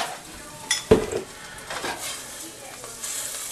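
Margarine melts in a hot pan with a soft crackling sizzle, opened by a sharp scrape and clatter of a utensil, then quieter bubbling and a few light stirring taps.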